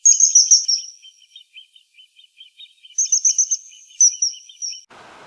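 Kingfishers recorded around Tophill Low Reservoir give high, piercing whistled calls in short rapid bursts, with repeated softer chirps between them, clear and alone with no talking.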